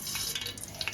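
Mustard seeds crackle and sizzle in hot oil for tempering while making makhana chivda, a dense, steady hiss with brief brighter pops across a short stretch, close and fairly quiet.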